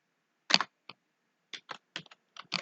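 Keys tapped on a computer keyboard while typing a short list of names into Python code, in several quick bursts of clicks separated by brief pauses, close and fairly quiet with no talking.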